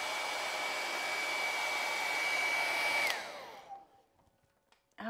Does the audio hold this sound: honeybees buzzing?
no